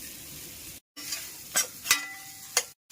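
Mushrooms shallow frying in ghee in a pan: a close, crackling sizzle broken by several sharp scraping stir strokes, with two brief dropouts to silence.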